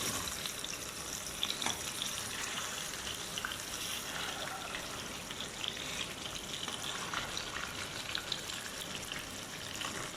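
Chicken chargha fries in a small amount of oil, a continuous faint sizzle with scattered light pops and crackles throughout.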